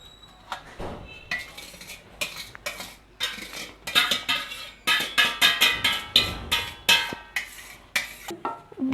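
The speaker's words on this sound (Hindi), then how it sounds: "अब हम इसमें चावल डालेंगे।" Rice is added to biryani masala in a pot and stirred, with a metal spoon striking and scraping the pot in repeated rhythmic clanks, close and loud, building into a quick series of strokes.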